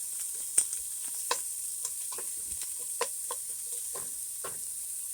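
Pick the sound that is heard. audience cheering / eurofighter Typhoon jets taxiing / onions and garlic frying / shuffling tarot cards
onions and garlic frying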